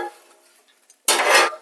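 A metal scoop scrapes loose french fries off a hot Blackstone griddle in one short, bright scraping burst after a near-silent pause.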